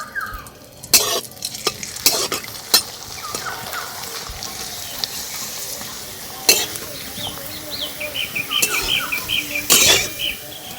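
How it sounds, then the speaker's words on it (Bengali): Potato papad being fried in oil, with a soft steady sizzle broken by sharp clanks and scrapes of stirring in the pan, bubbling growing a little livelier toward the end. "এবার পাঁপড়গুলো ভেজে নেব।"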